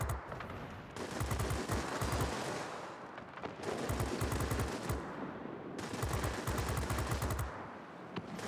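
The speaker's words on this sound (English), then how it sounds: "I'm managing the 20mm cannon quite carefully, 3-second bursts" Bell XP-77 fighter's 20mm cannon in World of Warplanes, firing three controlled bursts of rapid, heavy shots, each lasting a few seconds with brief pauses between, loud and close over a steady engine drone.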